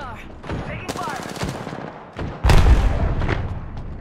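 Gunfire in Apex Legends Season 14 while playing as Loba, with bursts of shots, sharp cracks and a heavy impact near the end, all loud and close.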